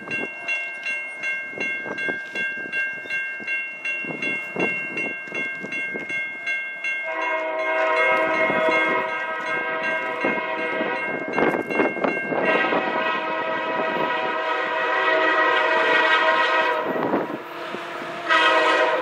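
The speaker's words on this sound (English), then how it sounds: "We then caught a northbound NS grain train" Northbound Norfolk Southern grain train passing close by, a sustained loud horn blast rising over the rolling rumble and clatter of the cars, growing louder midway and continuing to the end.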